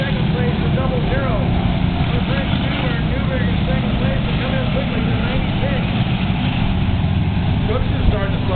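Race cars in a 200-lap pumpkin smash enduro at Lakeport Speedway in Lakeport, California, make a dense, continuous, loud engine roar, with a voice talking over it throughout.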